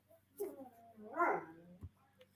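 Dogs whimper and whine indoors, wanting to go outside. A few faint, wavering cries rise and fall close by, with a soft thump near the end.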